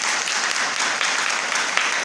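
Congregation claps together at a Sunday church fellowship meeting, a dense, steady patter of many hands lasting about two seconds before stopping abruptly.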